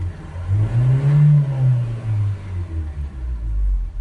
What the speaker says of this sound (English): So if we rev it up and down,